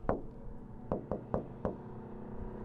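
Knuckle knocking on the carbon roof of a Porsche 911 GT3 992.2 Touring, five short dull raps: one alone, then a quick run of four. The knocks are close and fairly quiet in a still space.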